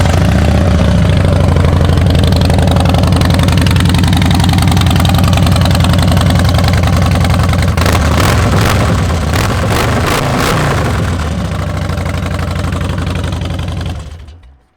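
A 2008 Harley-Davidson Fat Bob motorcycle engine idles loud and close with a steady, lumpy low throb, then cuts off at the very end.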